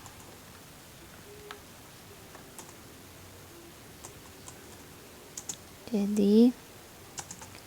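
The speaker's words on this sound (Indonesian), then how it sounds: "Ini Ibu ketik saja." Scattered light clicks of typing on a computer keyboard during a trigonometry limits lesson, soft and irregular, with a brief spoken word partway through.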